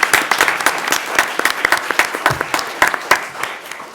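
A city commission meeting audience breaks into applause, close and loud, with distinct individual claps forming an uneven, lively rhythm for several seconds.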